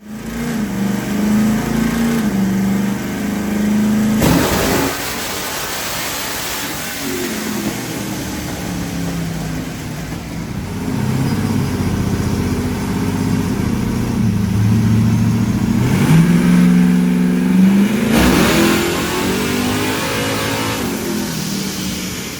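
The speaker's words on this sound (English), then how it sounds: "Do you guys remember when I had my truck on the chassis dyno?" A truck engine on a chassis dyno, roaring loud and close through repeated rising and falling revs with sharp surges, and no speech over it.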